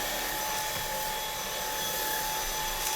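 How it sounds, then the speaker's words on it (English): A quiet vacuum cleaner runs indoors in an office, giving a steady, soft whirring hum with a faint high tone that holds evenly throughout, with no talking. "I thought I'd let you hear how quiet this vacuum is that I just recently got."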